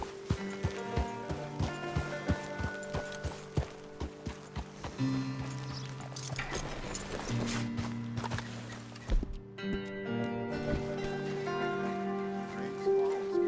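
Hooves of a horse in Red Dead Redemption 2 clop in a short run of evenly spaced steps that thin out, while sustained game music and other sounds take over the rest.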